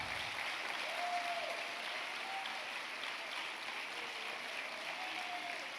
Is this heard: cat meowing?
no